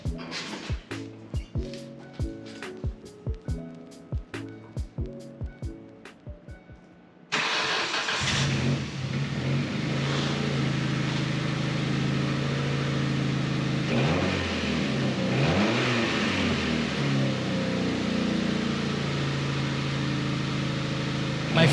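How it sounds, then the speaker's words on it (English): A 2002 Ford Focus ZX3, just repaired under the hood, cranks to life after a few ticking clicks, then idles loud and close with rising revs, its steady engine roar continuing to the end. "First start, since fixing a whole lot of things under the hood."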